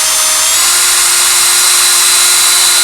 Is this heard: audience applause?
no